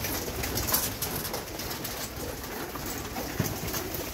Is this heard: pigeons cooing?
yes